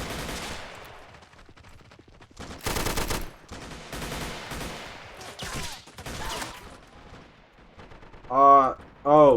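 Grenade blasts and gunfire in the video game Army Men: Plastic Wars come as several loud bursts of varying length, with brief quieter gaps between them and a pair of strong booms at the end.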